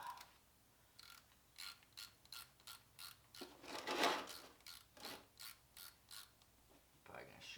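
Ratchet loosening a bolt during a coolant flush on a 2008 Kawasaki ZX6R, a series of about a dozen quick, close clicking bursts in an uneven rhythm with a short scrape midway.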